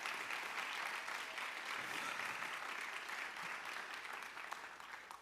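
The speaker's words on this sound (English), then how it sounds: "I want to give one last round of applause to our seniors." Sustained applause from an audience at a high school fine arts awards ceremony, honoring seniors; steady, dense clapping throughout, slowly fading toward the end, with no one speaking over it.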